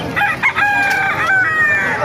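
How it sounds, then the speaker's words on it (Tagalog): Chickens and roosters at Bocaue market in Bulacan: a rooster crows loudly and close, with a few clucks beside it, all in one short burst. "Napakaganda ng mga manok ngayon dito sa Bukawi."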